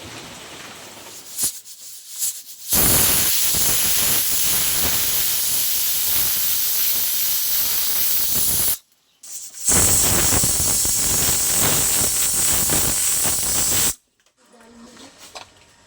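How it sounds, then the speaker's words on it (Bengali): A pressure cooker cooking mutton lets out long, loud, close steam whistles, two sustained hissing blasts separated by a brief pause, with quieter kitchen noise before and after. "আমি মাত্র 2টো সিটি দেবো প্রেসারে, 2টো সিটি দিলেই হয়ে যাবে।"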